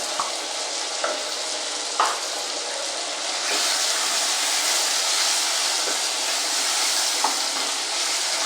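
Tomatoes and onions landing in a hot pan, giving a loud, dense, steady sizzle that grows fuller midway, with a few soft knocks from the pan and no talking.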